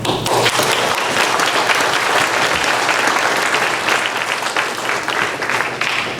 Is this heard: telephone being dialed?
no